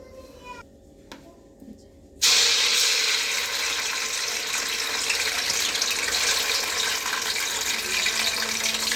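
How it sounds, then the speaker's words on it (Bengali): Onion paste dropped into hot oil for biryani, giving a sudden loud, steady hissing sizzle after a couple of seconds of quieter clinks and handling, close by. "তেলটা গরম হয়ে গেছে, এবার দিয়ে দিব পেঁয়াজের পেস্ট।"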